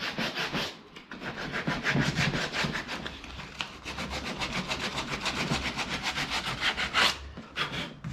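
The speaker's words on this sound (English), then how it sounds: "just give him a light sand just to take the sharp edges off" Light hand sanding of a repaired plastic fuel tank from a Yamaha WR450F, using 80 or 120 grit paper, a close, steady rhythmic rasp of quick back-and-forth strokes with no speech.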